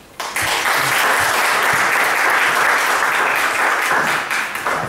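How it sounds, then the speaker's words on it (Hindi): A church audience bursts into loud, sustained applause for a group of Sunday school children who have read Bible verses, many hands clapping at once and fading slightly near the end. "आइए इस पूरे ग्रुप के लिए जोरदार ताली।"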